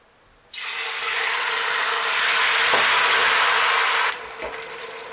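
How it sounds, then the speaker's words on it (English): Tomatoes drop into hot vegetable oil in a pot and start frying at once with a loud, steady hiss. The sizzle holds for several seconds, then suddenly drops to a softer crackle. "The tomatoes have been frying for some time now."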